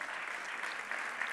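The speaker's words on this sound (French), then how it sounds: "On peut les applaudir pour ce premier argent" Steady applause from a festival awards audience, a dense wash of many hands clapping at moderate distance, continuous and even throughout.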